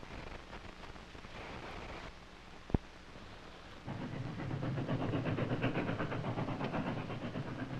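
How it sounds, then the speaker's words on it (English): A steady low rumble and rattle builds as a train rolls closer, with one sharp click partway through and a louder clatter afterward. "It's a train."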